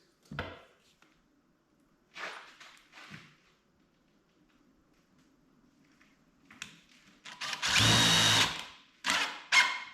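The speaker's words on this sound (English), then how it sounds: "Couple screws" A power drill drives screws into a mobile tote rack built from Harbor Freight scaffolding, giving several short whirring bursts separated by pauses, then one longer, louder run followed by a couple of brief final spins, close and alone.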